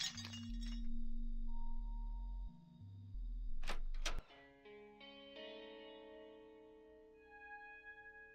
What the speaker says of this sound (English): Decorative shield is smashed.